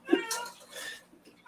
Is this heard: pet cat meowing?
yes